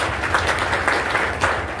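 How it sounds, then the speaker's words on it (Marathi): Audience applause honouring a lawyer at a Marathi devotional gathering during a week-long scripture-reading event, a steady dense patter of clapping from many hands, moderately loud and sustained throughout without speech. "त्यांच्याकरता एकदा टाळ्या वाजवा साहेबांना"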